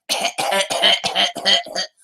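A rapid series of about six harsh coughs in quick succession, close and loud, with brief gaps between each burst.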